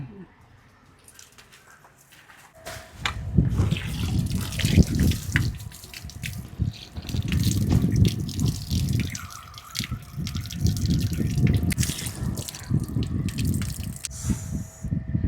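A tap on a pipe behind a house runs, splashing water steadily into a basin after a brief quiet start, with small drips and clinks around it.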